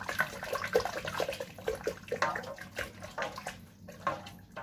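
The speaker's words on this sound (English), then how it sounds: "So I'm making a mini water tornado in here." Water swirled by hand or spoon into a whirlpool inside a cooking pot on the stove, a continuous sloshing, splashing churn with rhythmic surges, close and fairly loud, no talking.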